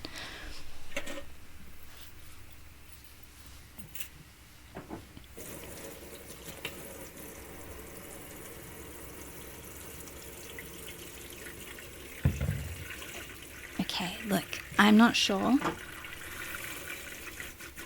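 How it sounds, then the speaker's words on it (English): Water runs from a tap in a steady background stream while a person talks briefly, with some clattering and handling noises toward the end. "I apologize if the sound of running water is having a negative effect on you"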